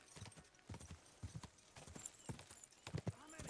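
Horse hooves clip-clop at a steady walking rhythm in the medieval game Kingdom Come: Deliverance 2, close and distinct, with quiet ambient game sound beneath.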